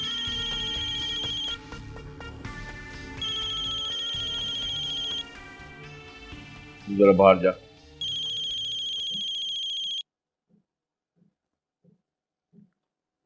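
A repeating electronic phone ringtone plays in bursts, pausing and resuming several times as calls are cut off; someone speaks briefly in Urdu over it before it stops.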